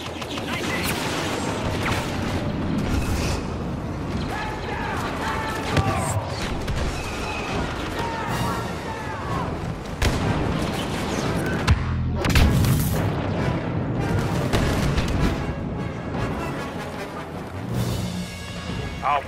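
Repeated booming explosions from a rebel bomber attack run in the Star Wars Battlefront video game, heavy blasts and crashes layered densely over continuous battle noise, with voices talking underneath.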